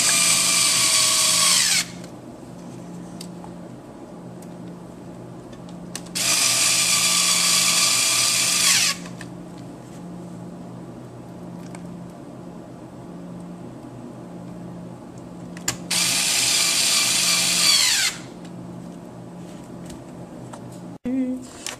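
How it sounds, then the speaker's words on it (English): Screws going into the front of a PS3 power supply, as three bursts of an electric driver whirring loud and close, each lasting a couple of seconds, separated by quiet stretches with a low hum underneath. "Now take the three smaller screws and screw in the front of the power supply."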